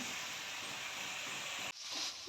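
Sliced beetroot frying in a pan, a steady sizzling hiss that drops out briefly, then resumes brighter and louder.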